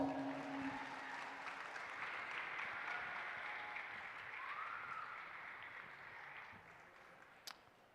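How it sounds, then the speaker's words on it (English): Applause for the seniors at a youth fair steer showmanship event, a steady, fairly faint crowd clapping that holds for the whole stretch, with a brief tone early on and a sharp knock near the end. "Let's give the seniors a big round of applause."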